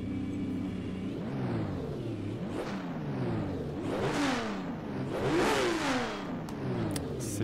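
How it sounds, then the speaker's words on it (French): Game engine sound of a BMW M1 Procar race car in a racing simulator, revving repeatedly through the range, with rising and falling sweeps cycling over a loud, continuous drone. "Oh, ça me pète les oreilles, ce moteur."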